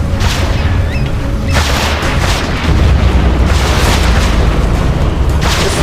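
Missiles being shot down by Stinger sites in C&C Generals: heavy booms and blasts roll continuously, loud and dense, with a fresh burst of explosions midway and a steady roar of battle underneath.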